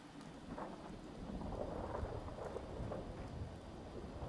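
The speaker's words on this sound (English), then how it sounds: "Always did like the rain." Steady rain hisses with low rumbling thunder in a Fallout 4 game scene, a soft, continuous storm bed with scattered drops and no voices.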